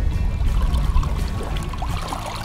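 A caught perch is let back into river water with a soft splashing and pouring wash, close and steady, under a constant outdoor rush of flowing water.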